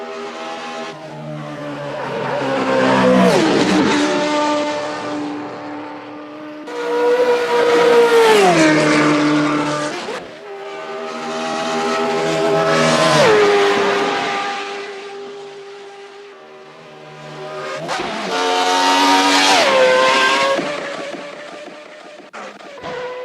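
A car engine revs hard in four long pulls, each climbing in pitch and then dropping as the gearbox shifts through its six gears; loud and close, with no talking.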